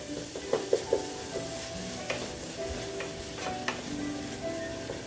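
Ground meat is worked into spaghetti sauce in a pan with a spoon, producing a continuous low sizzle and soft scraping, with a few sharp clicks of the utensil against the pot, close up and with no talking.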